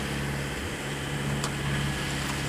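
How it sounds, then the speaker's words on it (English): A sailboat's engine motors steadily through calm, windless seas, a continuous low drone and hum with no pauses, close and constant throughout. "you can hear the motor maybe going in the background."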